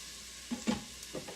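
Onion sautés in an Instant Pot with a continuous hiss, broken by a few sharp stirring clicks and scrapes close by.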